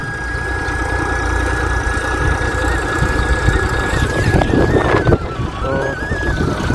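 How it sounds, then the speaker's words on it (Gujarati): A tractor engine runs steadily nearby with a low rumbling chug and a constant tonal whine, no one speaking over it. "ટ્રેક્ટર લઈને આવ્યા"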